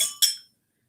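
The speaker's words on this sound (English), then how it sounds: "So I'm gonna pour me a glass," A glass clinks twice in quick succession, bright and close, as sparkling wine is poured in a shop's accessories area; the ringing fades within half a second, with no voices.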